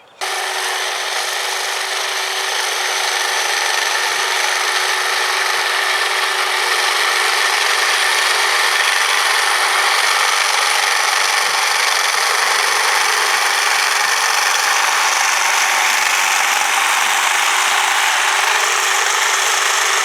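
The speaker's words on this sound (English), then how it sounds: "cut the winter rye down with the cordless hedge trimmer" A cordless hedge trimmer cuts down a stand of winter rye in a no-till vegetable garden, a bright steady buzzing whir with rustling of stalks, close and continuous for about twenty seconds without talking.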